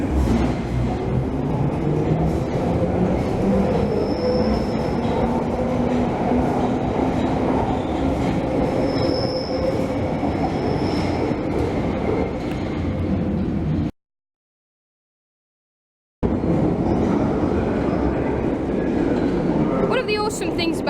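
A London Underground deep-tube train at Piccadilly Circus station gives a loud, steady rumble with rail clatter and faint squeals. The sound cuts out completely for a couple of seconds partway through, then resumes.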